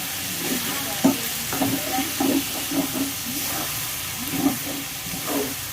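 Tomatoes frying in a pan for prawn curry are stirred with a utensil, giving repeated soft scrapes and clatters over a steady sizzling hiss, close and moderately loud.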